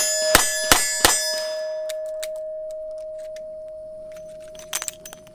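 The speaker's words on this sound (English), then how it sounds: "So you grab that clip, load in 2 rounds, peel away." Rounds dropped into the cylinder of a Taurus Defender 856 revolver from a stripper clip: three sharp metallic clinks close together, a long ringing tone, then a cluster of faint clicks and jingles.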